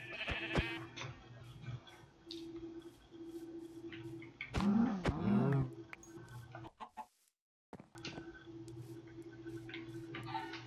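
Sheep bleat in Minecraft, a few wavering blocky bleats in the middle over a steady low game ambience, with brief gaps of near silence.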